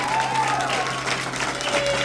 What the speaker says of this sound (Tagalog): Sige, mas palakas pang palakpak.